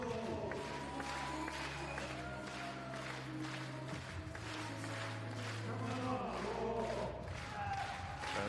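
An indoor athletics crowd rises and claps for a high jumper's final attempt, steady rhythmic applause and murmuring filling the arena, with a commentator's voice over it.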